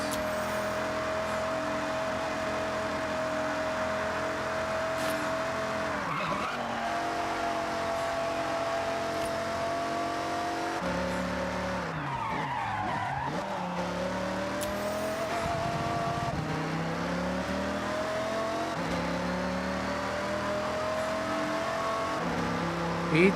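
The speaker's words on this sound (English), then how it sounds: "It really surprisingly reminds me of this engine sound of the Banshee." A race car engine in the video game Forza Horizon 6 holds a steady, loud, close tone, its pitch rising and falling as it revs and shifts throughout.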